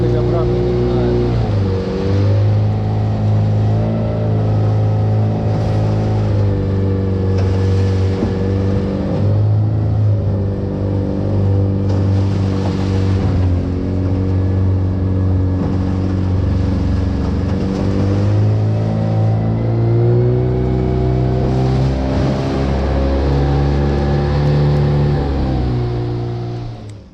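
A motorboat travelling downstream on a river, its engine droning loud and steady from close aboard for the whole stretch, with the pitch dipping and rising as the throttle is eased and opened again.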